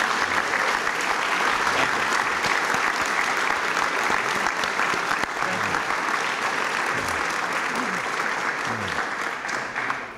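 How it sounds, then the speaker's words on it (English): Sustained audience applause at a GOPAC political reception with President Reagan, a dense steady roar of many hands clapping for about ten seconds, a few voices faintly mixed in beneath it. "I think these three deserve a round of applause"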